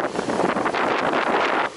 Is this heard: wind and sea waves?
yes